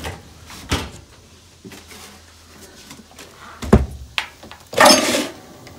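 Drawers in an RV being opened and shut, a handful of scattered wooden clunks and sliding thumps, the last ones louder and longer.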